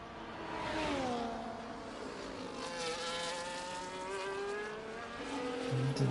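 A Kick Sauber Formula 1 car screams down the back straight of the Chinese GP in a racing video game with DRS open, its engine note rising steadily through the gears, loud and continuous with no voices.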